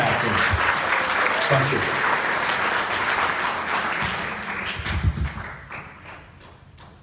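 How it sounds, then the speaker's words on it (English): Audience applause at an awards ceremony honoring the 25 most influential Asian Americans in Georgia, a dense steady clapping that fills the room, then thins and fades toward the end while a voice briefly speaks over it. "Let's give them a round of applause for the group."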